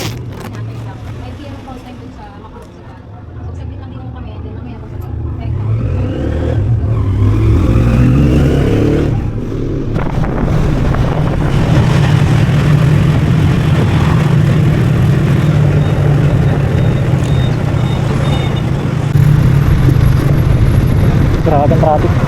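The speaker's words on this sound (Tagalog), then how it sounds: "Grabe ang traffic." Heavy road traffic heard from inside a moving vehicle: a steady loud low engine drone and road rumble that swells after a quieter start, with passing vehicle noise and faint talk inside.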